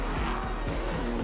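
A Formula 1 race car from a video game trailer, a steady loud engine roar with faint tire noise, close and sustained for about a second.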